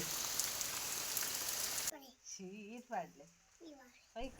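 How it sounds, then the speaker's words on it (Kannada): Steady rain falls as a dense hiss for the first two seconds, then cuts off abruptly and is replaced by close talking from an adult and a child. "ಮಳೆ ನಿಲ್ಲುವ ಹಾಗೆ ಕಾಣ್ತಿಲ್ಲ"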